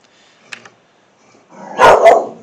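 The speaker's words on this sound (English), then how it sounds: "And that's my dog." A pet dog named Hamburger lets out a short yip early on, then a louder double bark close by, with no talking.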